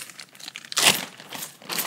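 Sealed plastic bags of Mould King building bricks crinkle and rustle close by, with a sharper burst of crackling in the middle of the handling.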